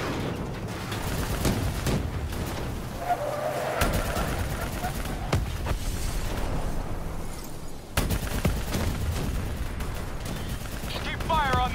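Video game gunfire, with repeated shots and bursts crackling over dense battle noise at a fairly loud level, mixed with mechanical clatter and brief voices.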